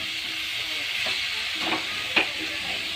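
Cauliflower curry cooking in a pan, a soft steady sizzle with a few light scrapes from stirring and one sharper knock near the end, nobody speaking.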